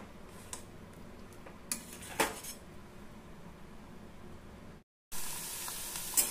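Potatoes fry in hot oil in a home kitchen, giving a steady soft sizzle with occasional clinks of a utensil against the pan, close and moderately quiet, broken by a brief dropout before the sizzle returns brighter.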